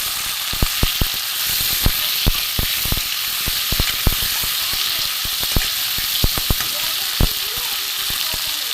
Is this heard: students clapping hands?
no